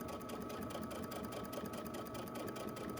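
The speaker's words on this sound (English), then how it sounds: "I want to back tack a little bit and go ahead and sew." A sewing machine stitches a seam on a box corner bag, running in a fast, continuous mechanical whir with a steady rapid needle rhythm, close and alone.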